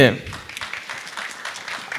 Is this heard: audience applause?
yes